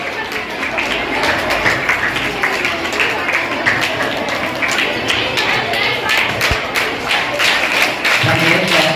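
An audience at a school prize-giving claps steadily and continuously in a hall, the applause close and sustained, with voices mixed into the crowd noise.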